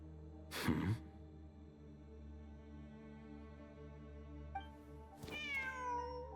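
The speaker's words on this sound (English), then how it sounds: "I hear my own cat meowing in the background" A house cat meows twice in the background, a short cry followed later by a longer, rising and falling meow, both over a faint steady hum with no talking.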